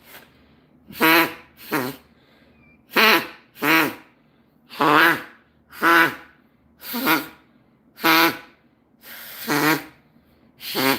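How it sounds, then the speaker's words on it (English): A homemade wooden duck call with a rolled-up reed is blown in about a dozen loud, evenly spaced quacking bursts, each a short buzzy honk close to the listener, with quiet pauses in between. "I just made a duck call."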